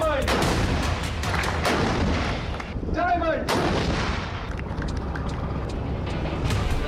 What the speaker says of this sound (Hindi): ये 155 मिलीमीटर की सेल्फ प्रोपेल्ड आर्टिलरी है।